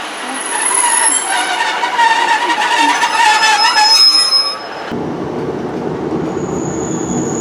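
A train passes through a station platform in Greater Manchester, with steady rolling rumble and high wheel squeal and clatter up close, then a lower, rougher rumble as it moves on.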